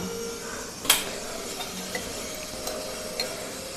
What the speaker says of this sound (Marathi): ते आता फोडणीत टाकणार. हां हो, तेल घालून फोडणीत टाकणार.